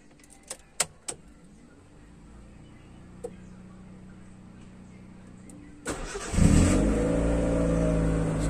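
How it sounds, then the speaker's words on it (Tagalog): A car engine cranks and catches after a jump start with series cables from a charged battery, settling into a loud steady idle in the second half after a few earlier clicks and thumps. "bubuksan na natin yung makina ng yung may kargadong baterya"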